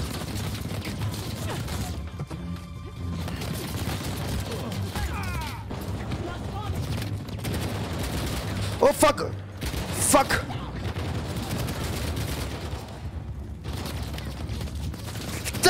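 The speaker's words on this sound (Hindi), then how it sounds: "यहाँ तो भाई बरसा रहा है गोलियां, भर भर के गोलियां बरसा रहा है बंदा।" Rapid bursts of gunfire rattle through an Indian video game, dense and continuous with sharper loud cracks mixed in, while a player talks and swears over the action.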